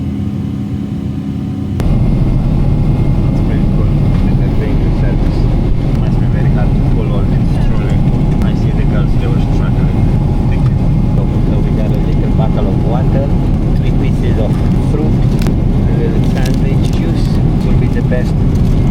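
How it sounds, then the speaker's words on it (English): Loud, steady engine roar and broadband rush inside the cabin of an Emirates Boeing 777 airliner climbing after takeoff at night, continuous and unbroken throughout. "this giant aircraft is already climbing into the night"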